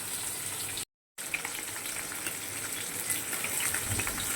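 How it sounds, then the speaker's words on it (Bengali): Pieces of katla fish fry in hot oil with a constant, fairly faint hiss and crackle, broken by a short cut to silence near the start. "চলো মাছটা ভাজা হয়ে যাক ভালো করে"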